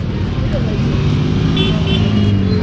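Steady roar of heavy road traffic near Saputara, Gujarat, with passing cars and engines, a faint horn in the mix, loud and continuous throughout.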